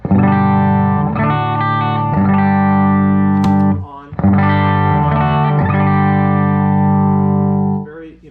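An electric guitar played through a Gjika mini amp with EL84 power tubes on a clean setting rings out in loud, sustained chords, with a brief break before strumming resumes and fades at the end.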